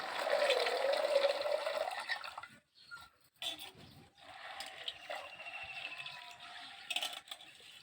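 Wild date fruits being washed in water, with a steady splashing, pouring rush over the first two seconds, a brief lull, then softer running and swishing water through to the end.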